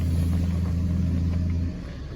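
A car drives a rough, potholed road toward Amga in Yakutia. From inside, a steady low engine drone and road rumble hold throughout, then ease slightly toward the end, with no talking.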